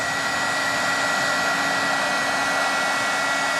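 A heat tool running on high blows a steady, close whirring rush of hot air over embossed paper, without a break.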